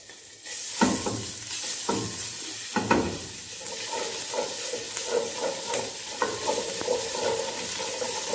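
Garlic and ginger sauté in hot oil, a steady sizzle broken by repeated scraping stirs for soup, the pan close and moderately loud throughout with no one talking.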